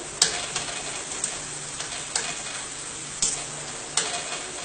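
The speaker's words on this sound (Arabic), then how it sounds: "كنحاول انني كنبقى ندير الزيت فوق الرغيفات ديالي باش كيتنفخوا ليا بهذه الطريقه هذه" Dough flatbreads frying in hot oil, with oil spooned over them: a steady low sizzle under a series of light, evenly spaced ticks and taps from the spoon, close and moderately quiet.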